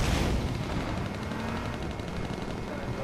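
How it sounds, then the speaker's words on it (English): Rapid gunfire from the online survival shooter H1Z1, a steady dense crackle of overlapping shots that keeps going for the whole stretch at moderate, somewhat distant level. "Oh, I hear gunshots to my right."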